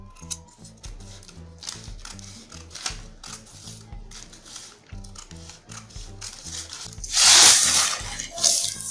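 Scissors cut fabric for a wrap peplum blouse, a rhythmic run of close, crisp snips and blade clicks that repeat steadily, followed by a brief loud rustle of cloth near the end, with no talking.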